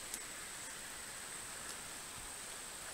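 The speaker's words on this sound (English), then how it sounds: "it's raining." Rain falling at a creek during a metal detecting outing, heard as a faint, steady wash of broadband hiss with a few tiny taps, quiet and continuous, without talk.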